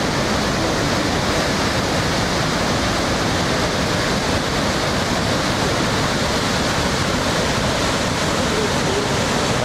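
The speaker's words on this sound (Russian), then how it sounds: "Называется водопад у чертовой мельницы." The Devil's Mill waterfall near Dombai roars steadily and loudly throughout, a dense, unbroken rush of falling water with no voices.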